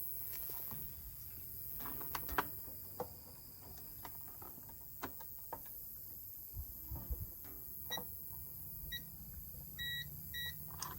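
A multimeter beeps during a continuity test on a Dometic RV water heater thermostat, several short, faint electronic tones near the end, closely spaced, over quiet background clicks and handling noise.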